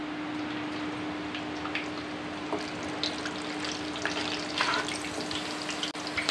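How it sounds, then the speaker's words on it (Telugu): Curry leaves fry in hot oil for a red chicken dish, giving a steady, dense sizzle with small crackling pops, close by and moderately loud, with no talking. "ఇప్పుడు కరివేపాకు నూనెలు వేసుకుందాము."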